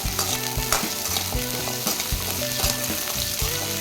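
Small onions sautéing in a pan for a Tamil fish curry, a steady close sizzle and frying crackle with repeated stirring scrapes and clatters throughout, no voices.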